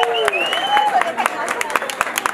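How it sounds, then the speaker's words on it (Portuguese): Applause from guests at a wedding party, a burst of scattered claps with sharp individual hits against a busy background of voices and party noise, fairly close and moderately loud. "Eu queria uma salva de palmas, por favor."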